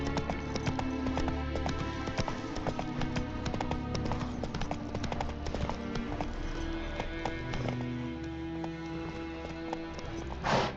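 Geralt's horse Roach gallops in The Witcher 3, rapid hoofbeats clattering steadily under a layer of game music and ambience, with no talking.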